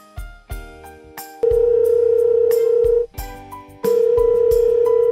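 An unanswered telephone call rings back through the earpiece, sounding a loud, steady electronic tone in long repeated bursts with short gaps between, mixed with brief chiming dial sounds.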